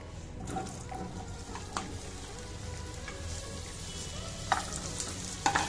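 Potato pieces hitting hot oil with cloves, black pepper and a leaf, sizzling steadily up close, with a few sharp clinks and stirring scrapes of a utensil against the pan.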